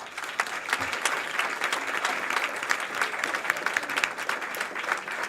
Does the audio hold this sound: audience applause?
yes